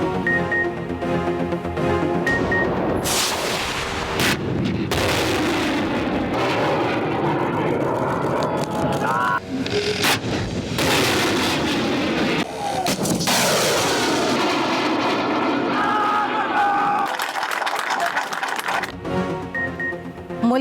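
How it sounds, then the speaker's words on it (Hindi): A Pakistan Navy air defence unit fires surface-to-air missiles in a demonstration, sending out loud, sustained rocket roars and blasts that surge and fade, with several launches one after another and no talk. "पाक बहरिया की एयर डिफेंस यूनिट्स का जमीन से फिजा में मार करने वाले मिसाइल्स की फायरिंग का कामयाब मुजाहिरा"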